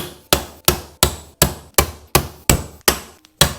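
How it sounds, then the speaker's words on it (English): Bolts are broken loose one after another on a Yamaha Moto 4 ATV engine case, about eight sharp, evenly spaced metallic snaps with short decays, close and loud, with no talking. "Let's get all these case bolts out."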